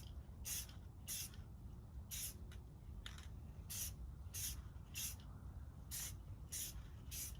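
A spray can paints in short hissing bursts, about a dozen evenly spaced sprays over a steady low background rumble, with no talking.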